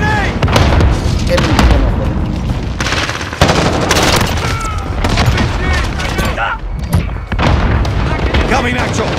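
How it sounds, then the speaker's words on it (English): Grenade blast in Call of Duty: Modern Warfare Hardpoint multiplayer, a loud boom amid continuous gunfire and battle noise, with voice callouts running over the action. "Throwing grenade!"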